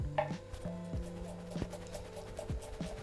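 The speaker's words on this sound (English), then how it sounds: "This onion, the grain kind of runs this way. So I'm gonna cut that way." Knife thinly slicing an onion along the grain on a cutting board for chicken pho, a steady series of soft, close board taps and slicing strokes with no talking.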